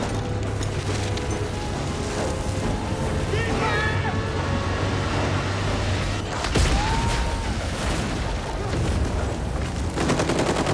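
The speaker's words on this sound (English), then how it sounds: "thanks to all the guards' terrible accuracy, Hopper is able to escape unwounded by the bullets" Bursts of gunfire from guards firing in a Stranger Things scene, dense crackling shots mixed with roaring ambience and music under a narrating voice.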